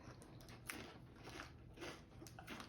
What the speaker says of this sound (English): I like the crunch that the crackers make